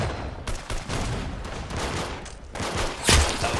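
Rapid bursts of gunfire from the Roblox Arsenal shooter game crackle almost continuously, dense and loud, with a sharper, louder shot near the end.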